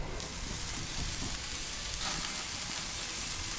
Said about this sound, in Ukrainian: Наше, наше м'ясо жариться.